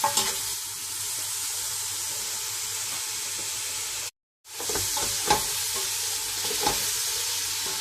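Prawns stir-fried in a pan for a restaurant-style prawn biryani: a steady, close sizzle and hiss with scraping spoon stirs, a brief break midway, then the frying resumes with a few sharper clinks.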